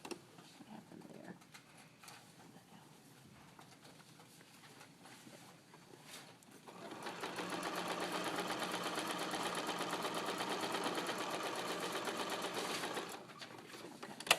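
A sewing machine stitching an invisible lapped zipper runs in a steady, fast, even whir for several seconds, preceded and followed by quiet handling sounds, close and alone.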